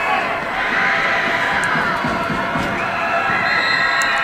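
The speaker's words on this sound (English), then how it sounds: "This crowd is indeed hyping up." A varsity high school football crowd in the stands cheers and shouts steadily, a broad roar from many voices held at a constant loud level.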